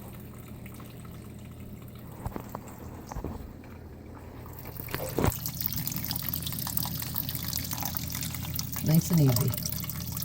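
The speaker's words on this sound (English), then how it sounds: "We should put some water in there." Water flows into an aquarium tank during setup, a steady running wash that rises partway through, with a short gurgle near the end and people talking quietly over it.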